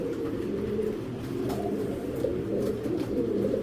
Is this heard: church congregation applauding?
no